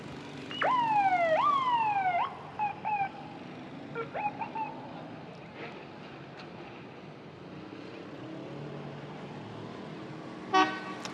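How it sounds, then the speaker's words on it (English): Vehicle horns and a siren-style wail from trucks in a fall foliage festival parade in North Adams, loud and near at first, then scattered short toots and a final blast over outdoor crowd noise. "how these guys, they honk right along."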